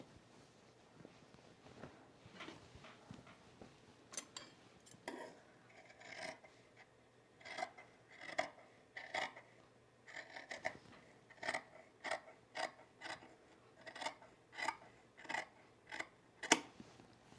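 Scissors snip fabric seam allowance on a sewn shirt near a thick dart, giving quiet, close, crisp cuts, first scattered and then in a steady run of repeated snips.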